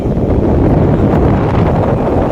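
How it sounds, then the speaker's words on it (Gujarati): Strong cool wind on a hilltop buffets the microphone with a heavy, low rumble, roaring steadily and loudly for the whole stretch. "મસ્ત મજાનો એકદમ પવન આવી ગયો છે ઠંડો ઠંડો કુલ કુલ"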